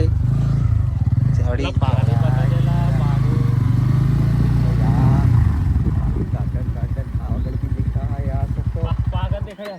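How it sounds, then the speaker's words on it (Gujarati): A new motorcycle labours up a steep village road, its mid-pitched engine revving steadily close by while riders talk loudly over it. "પિયુષભાઈ નવી બાઇક ચડી"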